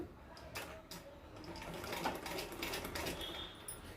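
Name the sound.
sewing machine stitching blouse hem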